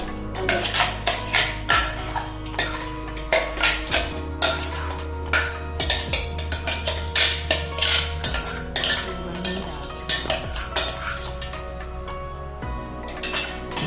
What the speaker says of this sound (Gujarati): કઢાઈમાં આપણે ચીકુ પીસા છે તે નાખી દેવાના છે।